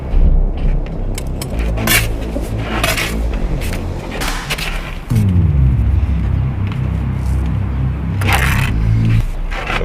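A mixer runs steadily close by at a bricklaying job on an octagon brick wall, giving a continuous churning rumble with scraping and clattering that grows heavier about halfway through.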